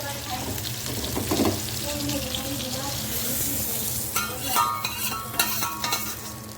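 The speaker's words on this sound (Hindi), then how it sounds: "अब ये तड़का तैयार किया जा रहा है बटर में।" Tempering spices sizzle and fry steadily in hot butter for chicken karahi, with a few clinks of stirring and soft kitchen noise throughout.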